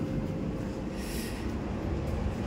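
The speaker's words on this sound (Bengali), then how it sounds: "দেখো এই হচ্ছে এই ট্রেনের এসি কোচ" Inside an AC coach of the 13115 Humsafar Express from Sealdah, a steady rolling rumble and hiss of train wheels on track fills the space continuously, with a brief brighter swell midway and no speech.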